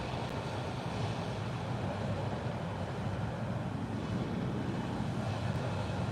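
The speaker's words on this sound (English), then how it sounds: "This is a turbo mill, turbo grinder." A turbo mill grinder runs in a lithium-ion battery and solar panel recycling plant, grinding down copper and aluminum material with a loud, steady, unbroken industrial roar.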